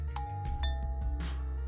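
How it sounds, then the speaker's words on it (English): Doorbell in a visual novel video game, chiming in two bright ding tones that ring out over a low background music bed. "she tried pressing the doorbell."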